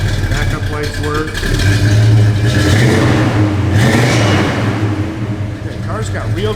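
Engine of a 1969 Pontiac GTO rumbling loudly nearby with a deep, throaty idle that swells as it is revved, with a person talking over it.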